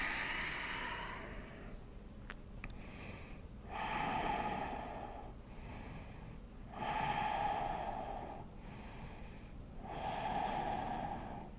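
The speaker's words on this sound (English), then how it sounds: "Take a big inhale. Fold down as you exhale." Slow, deep breaths during a yoga flow stretch, each long inhale and exhale swelling and fading in a steady cycle, close and fairly soft, with no talk.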